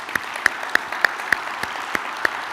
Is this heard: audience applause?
yes